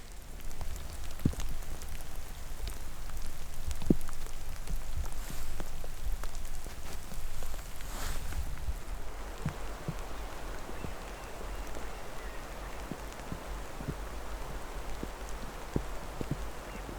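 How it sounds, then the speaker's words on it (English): Light spring rain in Washington pattering steadily, with scattered distinct drips and taps against a soft continuous hiss, fairly close and quiet. "It has ultimately been raining all morning."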